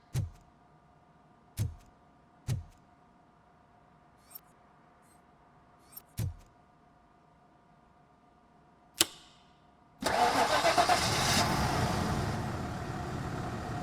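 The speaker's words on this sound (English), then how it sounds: "That would explain the car not starting." A car engine in the video game Robocop Rogue City cranks and catches after a repaired disconnected coil, roaring into a loud, steady run that follows several sharp clicks and knocks.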